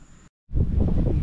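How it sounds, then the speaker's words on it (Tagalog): Strong wind gusting across the Mt. Marami summit in Maragondon, Cavite, roaring and buffeting the microphone steadily after a brief silent gap. "Grabe, lakas ng hangin"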